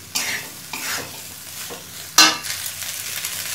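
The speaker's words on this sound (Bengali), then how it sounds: "পাস্তা দিয়ে খুব ভালো করে মিশিয়ে নিয়েছি।" Pasta with egg and chicken is stirred in a pan, a few distinct scraping strokes with a sharp clatter near the end over a soft background sizzle.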